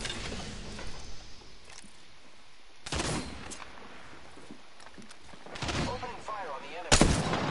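Several bursts of gunfire ring out in a shooter video game, loud sharp volleys near 3 s, 5.6 s and 7 s over a steady background hum, with no voices.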